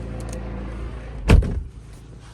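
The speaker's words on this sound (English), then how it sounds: "I'll just quickly close the door." A car door on an Audi S3 swings shut with a single solid thud, heard close over a low, steady hum from the vehicle.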